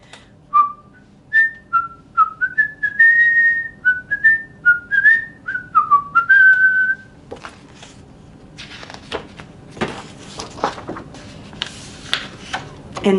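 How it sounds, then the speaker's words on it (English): A person whistles a lively tune, a clear run of about a dozen rising and falling notes close up, followed by scattered clicks and tapping. "He whistled all the way there."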